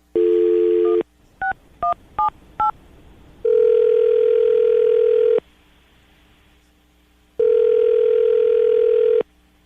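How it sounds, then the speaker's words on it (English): A phone call being placed: a steady dial tone, a quick run of separate keypad tones, then two long ringback tones with a quiet gap between them. No one speaks, and the sound is clear and close. "going to call her right now, get her on the phone"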